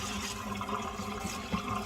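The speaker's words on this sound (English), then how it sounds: "Again, using cold water, I am just going to spray my wig and clean it." Cold water spraying from a handheld sink sprayer onto a synthetic wig, a steady close hiss of running water that carries on unbroken.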